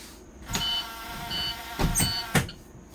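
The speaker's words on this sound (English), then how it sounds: "I'm checking for my emergency buzzer" Emergency buzzer on a school bus during a pretrip check, short electronic beeps and buzzes sounding in separate bursts amid clicks and cabin noise, close and fairly loud.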